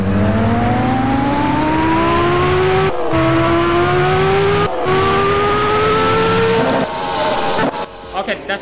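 Kawasaki Ninja motorcycle engine in a Roblox drag racing game, revving up in rising sweeps with brief cuts between gear shifts, loud and close, ending in choppy bursts.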